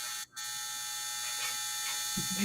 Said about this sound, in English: My dryer just finished.